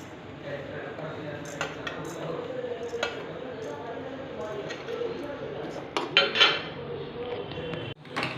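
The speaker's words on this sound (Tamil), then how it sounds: "இப்போ அடுத்து சோம்பு போட்டு வறுக்கிறேன்" Fennel seeds dry-roasting in a pan, a light steady rustle as the seeds are tossed, with scattered metallic clinks and scrapes of a utensil against the pan and a soft voice underneath.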